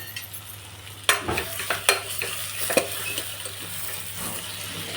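Brinjal stirred and frying in masala in a pan, a soft sizzle with several sharp scraping and clinking stirring knocks close by.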